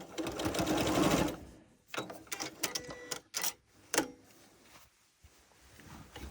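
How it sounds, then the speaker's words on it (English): A sewing machine stitches a diagonal line across a quilt corner, starting with a close, steady hum of running stitches, then breaking into short, irregular bursts and clicks as the fabric is turned. "Now I'm going to turn this so that I can sew a diagonal line onto the corner of the quilt."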